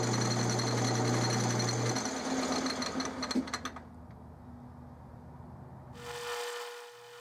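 A metal lathe cutting brass with a hand-ground high-speed steel bit on a precision gyroscope flywheel and axle: a steady machine whine and cutting hiss, close, which stops partway through before a brief motor tone returns.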